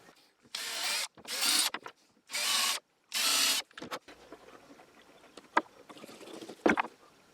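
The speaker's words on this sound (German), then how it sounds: "Damit auch das untere Holz nicht reißen kann, bohre ich mir das auch vor." A drill bores a pilot hole into wood for a homemade hand crank, heard as four short whirring bursts, close and fairly loud, followed by quieter clicks and handling noises.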